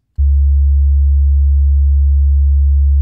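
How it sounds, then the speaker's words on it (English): A synthesized 70 Hz sine wave starts with a fast fade-in, then holds as a loud, steady, deep hum with no variation for about three seconds, alone. "It uses an even lower frequency, a 70 hertz sine wave"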